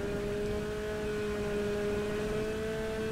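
A jet ski engine in GTA V drones steadily as it accelerates, a constant tonal whine with a rough low rumble underneath and no speech.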